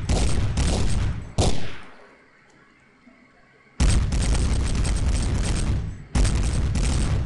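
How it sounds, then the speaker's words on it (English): Loud bursts of gunfire and grenade blasts in the video game Dark Flow: dense rapid shooting, one boom that decays into a quiet gap, then more sustained heavy fire. "Throw a grenade to kill that guy."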